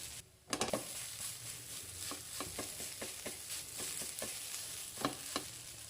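Peas roasting in a pan for kheer give a continuous soft sizzle, with a regular run of scraping clicks as a spoon keeps stirring them. Close and moderately quiet.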